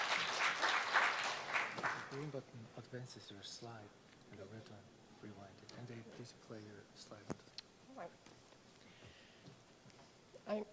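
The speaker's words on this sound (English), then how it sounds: "Please welcome with a big round of applause." Audience at an international e-mobility expo forum applauds a speaker's welcome, a brief burst of clapping at the start that quickly gives way to someone speaking over a quiet room.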